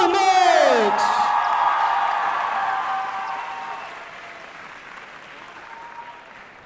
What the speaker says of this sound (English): your loudest applause for Hall 10 Soulmates!